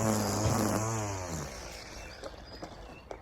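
Makita DUR181Z 18V cordless line trimmer whirring through grass, loud and close at first, then winding down and fading, followed by faint rustles and small thuds.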